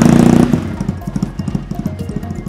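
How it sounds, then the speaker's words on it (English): A 2009 Triumph Bonneville starts with a brief loud whirr, then settles into a lumpy, pulsing idle thump, close by and steady. "Turn the key, the exhaust fire up."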